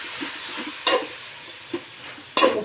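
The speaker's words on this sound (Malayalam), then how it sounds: "ഒരു കഷ്ണം ഇഞ്ചി, ഒരു 2-3 വെളുത്തുള്ളി ചതക്കിയത് ഒന്നായിട്ട്, അതും കൂടിയിട്ട് നന്നായി ഇതൊന്ന് ഇളക്കുന്നുണ്ട്." Green chilli, ginger and crushed garlic stirred in a frying pan give a steady low sizzle, broken by three scraping spoon strokes spaced about a second apart.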